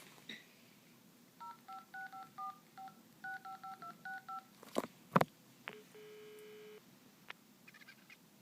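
A landline phone number is dialed with a steady series of DTMF tones, quiet and close, followed by a few clicks and a short beep, with no talk.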